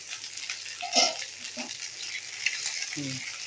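Food fries in a pan with a steady, soft sizzle throughout and brief stirring scrapes, while faint voices and small clinks surface now and then.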